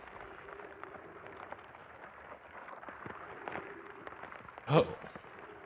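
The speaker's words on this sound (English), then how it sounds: "I can hear the sun exploding." In the video game Outer Wilds, the sun explodes as a sudden loud, rumbling burst late in the clip, rising above a steady droning backdrop, with a brief voice exclamation nearby.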